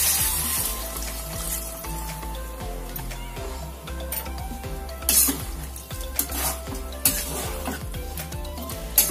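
Cauliflower-stalk vegetables get stirred in a pan after a cup of water goes in, a spoon scraping and clinking against the metal in repeated close strokes over a soft steady sizzle.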